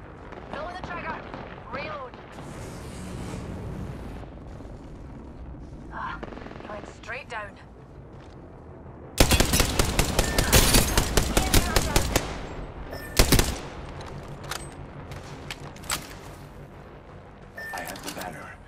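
Enemy gunfire in a multiplayer video game, a dense burst of rapid shots that erupts midway and crackles on for several seconds with a few later isolated bangs, over steady game ambience.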